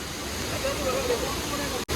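Vazhvanthol waterfall in Kerala, caught during rain: a steady, close, broadband roar of falling water that runs unbroken for about two seconds, with a faint hint of voices beneath it.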